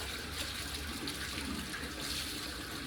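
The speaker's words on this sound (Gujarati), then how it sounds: "તો આપણે કપડાં ધોવા માંડ્યા" Water sloshes and splashes as clothes are washed by hand at home, a faint, continuous wet churning with no voices.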